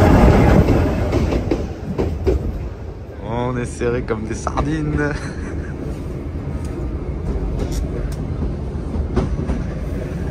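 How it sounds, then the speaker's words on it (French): A diesel train in Argentina rumbles and clatters along the rails with rhythmic clicking and a brief squeal, while people talk nearby inside the carriage. "Des beaux trains au gasoil, là."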